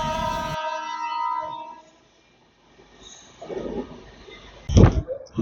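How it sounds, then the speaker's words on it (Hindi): A local train's horn sounds and fades, followed by rumbling and clanking of railcars, ending with a sharp metallic screech and thuds close by at a station near Delhi. "कोई लोकल ट्रेन आई है"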